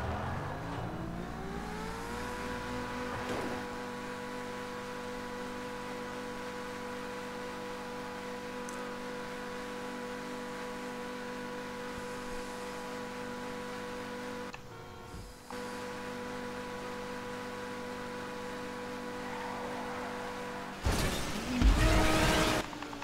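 Car driving in GTA 5 on a parkour course, a steady synthetic engine whine held at constant pitch for a long stretch, broken by a couple of noisy bursts and a louder rev near the end.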